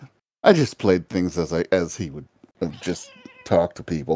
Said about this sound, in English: I have a cat in the background that wants my attention